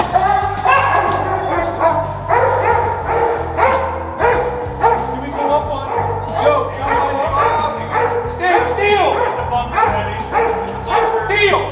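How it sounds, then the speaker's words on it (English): A police dog barks rapidly and loudly during close quarter battle training, with rhythmic, repeated barks and occasional yips close by under a steady low rumble. "Hey, canines, send that dog."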